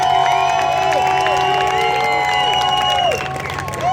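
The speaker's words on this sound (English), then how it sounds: "So give yourselves a round of applause." A rally crowd in Windsor, Ontario cheers and whoops loudly and steadily for about three seconds, dense and close, with high shouts layered over a low hum before the noise dips slightly near the end.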